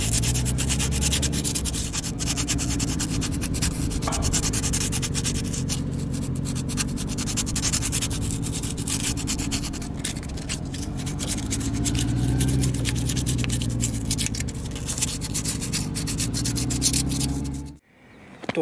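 A hand file rasps steadily across the worn surface of a rear stabilizer bushing on a Toyota AE111 Levin, a continuous close scraping rub that runs for most of the stretch before stopping abruptly near the end.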